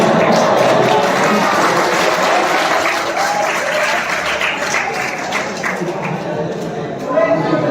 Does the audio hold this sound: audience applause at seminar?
yes